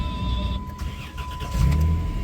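A Chrysler Town & Country AWD minivan cranks briefly and its engine catches near the end, settling into a low idle rumble close by, with no talking.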